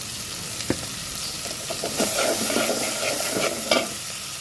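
Shrimp and rooftop-garden vegetables fry in a pan with a constant close sizzle, broken by a few sharp scrapes as a spatula stirs them. No one speaks.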